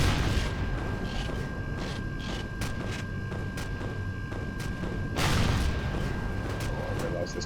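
Combat in the space game Empyrion as gun turrets are shot out, with continuous heavy weapon fire and rumbling impacts, a louder burst near the end, beneath a steady tone and battle noise.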